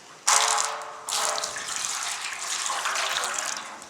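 White vinegar and salt solution poured into a copper fire pit, a steady splashing gush that starts abruptly, briefly pauses, then continues as a sustained pour, close and fairly loud.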